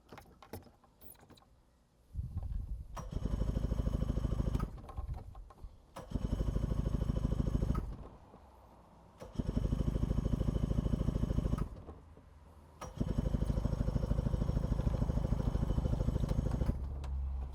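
An old boat engine with an automatic choke cranks in four separate bursts of steady mechanical churning, separated by short pauses, close and loud, without catching and settling into a run.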